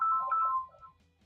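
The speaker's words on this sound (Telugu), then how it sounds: "వేరే ఫోన్ వస్తుంది, ఒక నిమిషం లైన్ లో ఉండండి." Phone ringtone for an incoming call, a short electronic melodic tone that plays clearly and then fades, with no talking over it.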